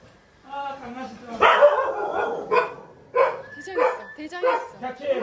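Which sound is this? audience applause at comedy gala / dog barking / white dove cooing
dog barking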